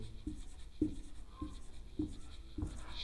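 Pen strokes on paper while a maths solution is written out by hand, five short scratchy marks spaced about half a second apart, close and fairly quiet, with no talking.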